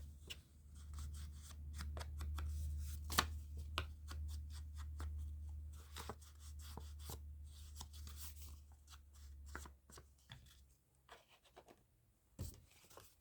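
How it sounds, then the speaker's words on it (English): Scissors snip a small angled cut into a journal card, a few crisp clicks and rustles of the card stock close by, with sharp transients scattered over a low steady hum and no talking. "just to give it a little angled snip"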